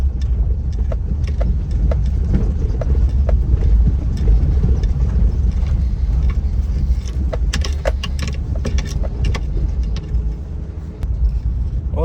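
A 4x4 vehicle's engine drones loudly and continuously at close range as it travels a hilly mountain track near Malana village in Himachal, with rattles and knocks from the rough ground throughout.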